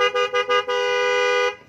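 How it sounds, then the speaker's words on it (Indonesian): A Denso waterproof horn on a motorcycle honks three quick times, then gives one long, loud, steady blast lasting about a second before cutting off. "Kita coba klaksonnya pakai Denso."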